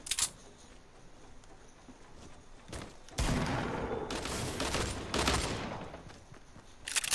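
Hunting rifle shots in a squad-based online shooter game, with a few separate sharp cracks spaced over several seconds against a quiet background and no talking.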